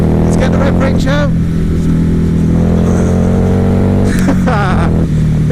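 A 2016 Harley-Davidson Night Rod motorcycle revs up loudly through its range while overtaking, a steady close engine drone with rising pitch sweeps and wind rush, heard from the rider's position with talk over it.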